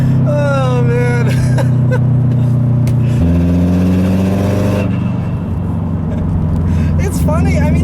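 Subaru WRX with an external wastegate dump open, driven on the road: loud steady engine drone with a gear change partway, turbo whooshing and fluttering bursts over the exhaust, a voice talking throughout.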